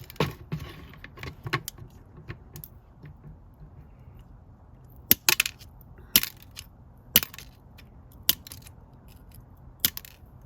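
SEABELL ceramic scissors nibble at a piece of crockery to shape a petal, giving sharp, isolated crunching snaps spaced a second or so apart over faint handling noise, close up with no talking.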